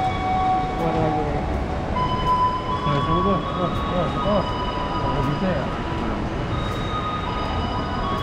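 A sleeper train stands at a station on the Jakarta to Surabaya line, with a steady mechanical hum, tonal whines and platform ambience under people talking.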